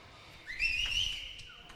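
Single sharp whistle from the audience at a racquetball women's singles final, rising then sliding down over about a second against a quiet arena murmur.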